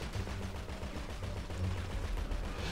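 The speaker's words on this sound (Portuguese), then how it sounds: "O metralhador ali tá mandando tiro em mim também." Dense gunfire from the GTA V video game during a heavy armed convoy battle, a steady rattling stream of shots with rapid machine-gun-like bursts, fairly quiet and continuous throughout without talk.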